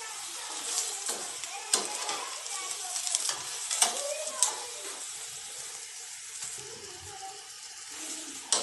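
Aloo paratha fries in oil on a stove at normal heat, with soft sizzling, scattered crackles and occasional stirring or scraping, while a person talks.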